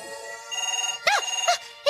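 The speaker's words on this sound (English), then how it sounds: "the phone's ringing" A telephone rings in short repeated trills, bright and close, with brief pauses between bursts.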